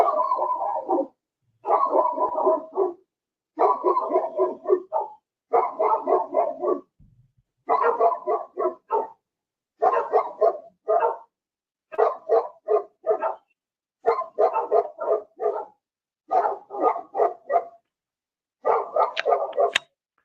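Two dogs bark steadily in rapid bursts of several barks with short pauses between them, loud and continuous for about twenty seconds with no talking.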